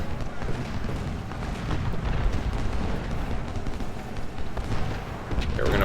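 Cannon and artillery fire boom repeatedly in a battle of the Ultimate General: Civil War video game at Shiloh, a dense rumbling barrage of heavy blasts that fills the whole clip.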